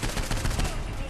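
An MP5 in the video game Saints Row IV fires in a dense, rapid burst of loud shots that continues evenly through the whole moment.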